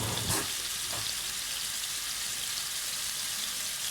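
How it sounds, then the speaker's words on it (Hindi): Beef sticks fry in a pan with a steady, bright sizzle of hot oil, close and continuous, with a couple of brief low knocks near the start. "इनको मैं फ्राई कर रही हूँ।"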